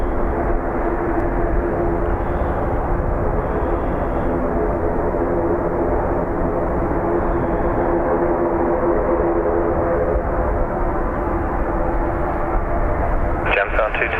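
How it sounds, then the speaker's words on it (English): An ATR turboprop airliner at Dublin Airport gives a loud, steady droning hum with tonal engine harmonics, holding constant throughout, while a voice talks over it. "Another ATR by the sounds of things."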